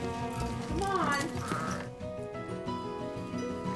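Sheep bleat on a farm that breeds sheep and goats, a few wavering calls close by in the first two seconds, with a person talking over and around them.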